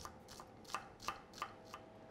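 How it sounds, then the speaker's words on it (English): A knife finely chops a shallot in a quiet kitchen, six or so crisp, evenly spaced strikes landing about three times a second with no voices. "then finely chop a shallot"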